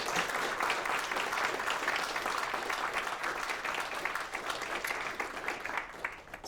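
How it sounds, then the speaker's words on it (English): An audience at a Michigan Tech symposium awards session claps in dense, sustained applause that holds steady and then thins slightly toward the end. "Let's celebrate that with a round of applause."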